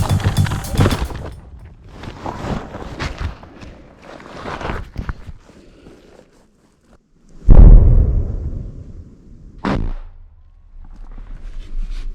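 A drone-dropped munition strikes an artillery gun in wartime, giving a heavy, booming blast that rumbles away, with a sharper crack after it. The sounds are distant and muffled, with rustling and movement nearby.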